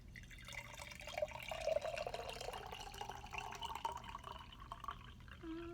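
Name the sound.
water being poured into a jar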